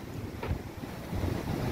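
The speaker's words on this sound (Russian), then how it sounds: "Сегодня море штормит." Stormy sea at Odessa, with high waves and strong wind: a steady low roar of surf and gusts buffeting the microphone, continuous and fairly loud, with no talking.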